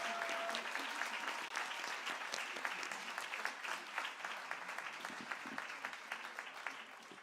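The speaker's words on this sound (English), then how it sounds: "Please give another loving round of applause for our amazing and talented children." An audience at a cultural program claps warmly for a children's performance, with dense, steady applause and sharp individual claps standing out. The clapping holds for several seconds and gradually softens.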